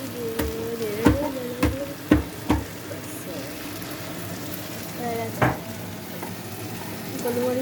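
Chicken chow mein sizzles and fries in a pan as pepper is added, a steady crackling hiss broken by several sharp clacks of a utensil stirring against the pan, with faint voices in the background.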